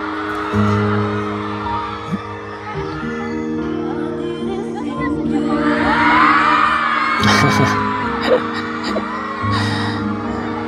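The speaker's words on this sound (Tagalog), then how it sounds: "Grabe ang hiyawan." A crowd screams and cheers at a live singing performance, the shrill roar swelling midway over sustained music, with a few sharp bursts and some voices mixed in.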